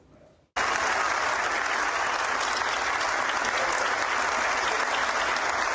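Sustained, loud applause from members of the Federación Nacional de Comerciantes (FENALCO) interrupts outgoing Colombian attorney general Francisco Barbosa's speech, starting abruptly after a brief quiet moment and holding steady throughout.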